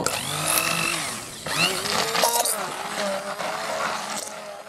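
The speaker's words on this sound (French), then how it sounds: "on va incorporer le beurre à présent avec le mixeur" An electric mixer working butter into a vanilla crémeux for a chocolate-vanilla Christmas log, a steady whirring motor hum with pitch shifts as the blades move, heard close and continuous.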